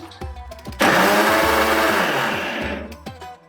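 An electric mixer grinder blends soaked moong dal with a small cut tomato, kicking in suddenly as a loud, steady whirring roar for about two and a half seconds and then tapering off as it stops.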